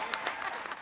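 A boisterous crowd in the White House Rose Garden applauds Kathleen Sebelius in a brief burst of scattered clapping.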